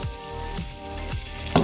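Garlic sautéing in melted margarine in a pan, a steady loud sizzle with periodic stirring scrapes and no talk.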